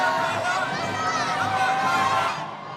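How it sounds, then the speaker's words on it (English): Crowd cheering and shouting at a Psicobloc Masters deep-water solo climbing competition, a steady, dense roar of many voices over 2.8 seconds that eases slightly toward the end. "the crowd is going crazy here"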